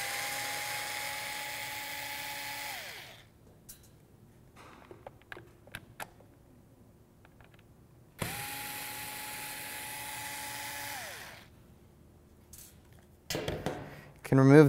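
A low-powered electric screwdriver whirs in two sustained bursts of a few seconds each, backing out screws from a Nomad scene light's battery cover. It sounds close and steady, with small clicks and handling noises in the pauses between.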